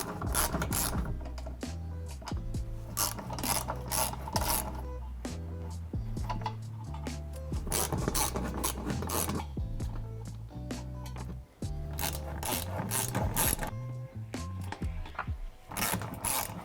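A ratchet wrench clicks in bursts while 10mm screws and plastic clips come out of the splash guard of a 2014-2021 Toyota 4Runner, rapid close ratcheting with short pauses between runs.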